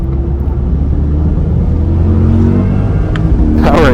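A 2024 Chevy Corvette E-Ray hybrid sports car accelerates hard on a race track, its engine roaring loud and close in a steady, building drone with a rising pitch sweep at the end.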